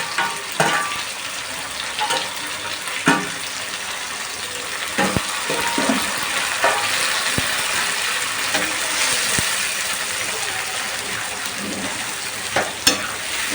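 Pieces of drumstick and tomato fry in a hot pan for an egg pulusu, crackling and sizzling continuously with frequent sharp pops and spatters, close and fairly loud.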